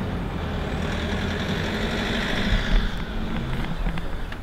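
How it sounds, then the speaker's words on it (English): A courier van rumbles steadily nearby and swells slightly as it pulls off, its low engine drone continuing without any talk. "That was a courier van driving away."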